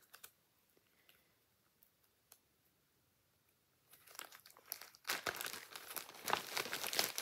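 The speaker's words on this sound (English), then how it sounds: "Just taking it out of the plastic for you." Plastic packaging around a Halloween Gnomes cross-stitch project is rustled and unwrapped, quiet at first, then loud crinkling and crackling bursts that grow denser toward the end, with no talk over it.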